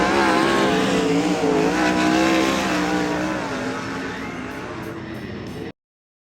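World of Outlaws sprint cars roar through a heat race at Keller Auto Speedway, a loud dense pack of engines wailing and shifting pitch together, fading slightly before cutting off abruptly.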